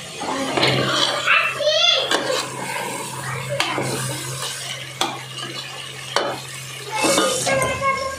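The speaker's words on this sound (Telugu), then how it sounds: "లెగ్ పీస్ వేస్తున్నాం, చికెన్ ఫ్రై చేస్తుంది" Chicken leg pieces fry for biryani in a pan, giving a steady sizzle and repeated metal stirring scrapes under ongoing talk, with a few sharp clanks of the spoon against the pot.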